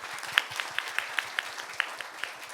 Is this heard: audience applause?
yes